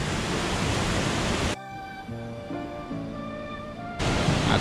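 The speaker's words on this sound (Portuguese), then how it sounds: "Agora eu vou conseguir tomar banho de cachoeira." Waterfall in Itatiaia National Park roars as a dense, steady rush of falling water, loud at the start and end and briefly giving way in the middle to a quieter tonal passage.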